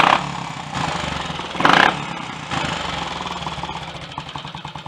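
A Triumph Tiger Cub motorcycle engine runs after a top end refresh, a steady close idle with a few short throttle blips rising and falling.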